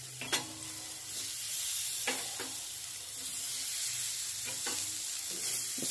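Halved boiled eggs fry in a hot pan for an egg pepper roast, giving a continuous close sizzle and crackle broken by a few soft scraping stirs, with no talking.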